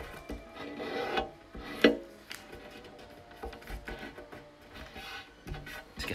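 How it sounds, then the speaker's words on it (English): Origami paper for a heron is folded corner to the center crease, giving close, soft crinkling and rubbing with a few sharper creasing snaps. "you'll need to take these corners here and just fold them to your center crease there."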